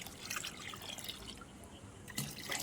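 Liquid fertilizer poured into a large bucket of rice-washing water, a steady close trickle and splash of liquid running continuously, with a brief stronger gush near the end.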